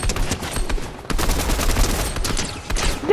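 Rapid gunfire in the video game Fortnite, dense bursts of sharp shots and impacts crackling continuously, loud and close, with no talking.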